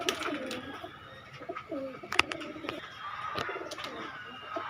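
Domestic pigeons, including Royal Teddy and 128 breeds kept at a loft in Khulna, coo softly in repeated low rolling calls, several birds overlapping at a moderate distance with faint background chatter.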